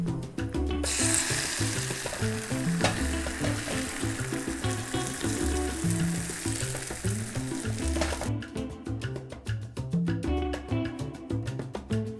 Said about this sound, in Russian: На сковороду наливаем немного растительного масла и начинаем жарить блинчик